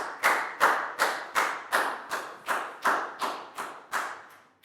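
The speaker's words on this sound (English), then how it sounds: "High five and a big round of applause for Pak Boom, please, guys." A single person claps about a dozen evenly spaced sharp claps in a classroom, close and fairly quiet, with no voices.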